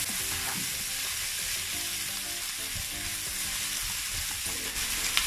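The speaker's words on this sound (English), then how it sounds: "I'm going to mix together." Salt and pepper chicken stir-fry sizzling steadily in a hot pan while being mixed, a dense continuous frying hiss with occasional soft stirring knocks, close and even throughout.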